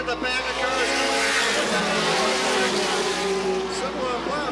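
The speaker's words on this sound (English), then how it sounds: "Look at the pack of cars coming." A pack of late model race cars roars around a speedway in a 1985 Sandusky Speedway main event, a dense, sustained engine drone with shifting pitches as cars pass, while a commentator talks over it.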